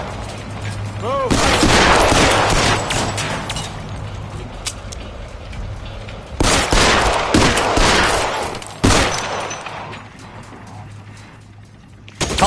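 Gunfire in the LA Noire VR video game: dense bursts of shots ring out in rapid volleys, heavy for the first few seconds, then broken by several sharp, loud blasts, with mechanical clatter between them and no talking.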